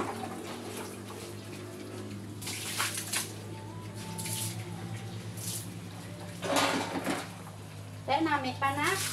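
Water is poured and splashed over pet piglets to wash them, with gurgling and intermittent splashes throughout, while people talk close by.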